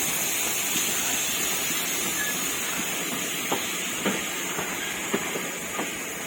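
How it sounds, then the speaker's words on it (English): A steam train at the Severn Valley Railway in Bewdley gives a steady, loud hiss of steam with a few faint knocks and clanks scattered through it, and nobody speaks. "There's that beautiful train."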